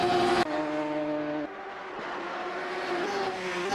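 A Radical SR3 race car at speed on Road America's long straight in Assetto Corsa: a loud, high engine whine held steady with gear shifts stepping the pitch, close and continuous with no talk.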